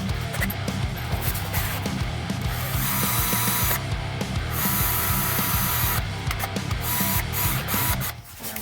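Screws being driven into a Corvette C4 door panel, a close, rapid ratcheting whir from a driver, with steady buzzing bursts and short pauses.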